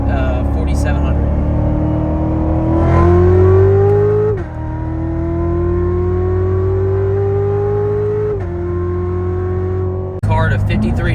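A C7 Corvette Z06 accelerates hard in a roll race from inside the cabin, its engine note climbing steadily through the gears with clear shift breaks, loud and close, with a brief burst of talk at the very end.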